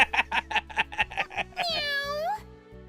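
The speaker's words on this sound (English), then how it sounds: "Holy crap, a talking cat! Meow!" A cartoonish talking cat in the video game Trails of Cold Steel III gives a single drawn-out, wavering meow after a quick run of short clipped voice bursts, close and clear.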